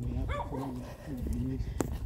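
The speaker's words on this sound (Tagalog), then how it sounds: "May aso." Dog barking a few times during an outdoor Easter weekend walk, short barks close by under steady talk and background noise.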